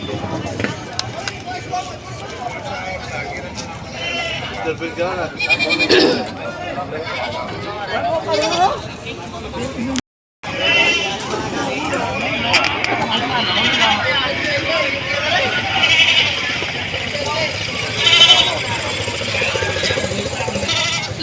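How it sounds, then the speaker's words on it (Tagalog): Goats bleat now and then at a Philippine livestock farm amid steady outdoor chatter and people talking, with a brief silent gap partway through. "Yan, napakami pa kambing."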